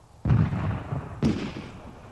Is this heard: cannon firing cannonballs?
yes